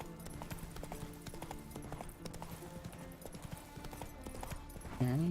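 Horse hooves clip-clop steadily while riding in The Witcher 3 video game, a continuous rhythmic trotting under game music, ending with a louder swell near the close.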